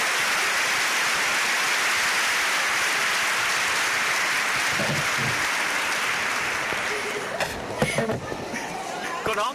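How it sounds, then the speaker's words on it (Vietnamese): Loud, dense applause from an audience at a Vietnamese workplace awards ceremony, sustained at full strength before thinning out near the end, when a few separate claps and faint chatter come through. "Đề nghị chúng ta cho một tràng pháo tay qua hồ"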